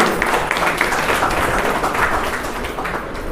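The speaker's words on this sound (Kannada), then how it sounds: "ಅವ್ರಿಗೆ ಇನ್ನೊಮ್ಮೆ ಜೋರಾದ ಚಪ್ಪಾಳೆ ಬರಲಿ." An audience claps at a ceremony, a dense, sustained patter of many hands that holds steady throughout.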